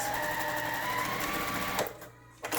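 Close, fast mechanical whirring of a sewing machine top-stitching a fabric face mask, running steadily and then stopping abruptly near the end.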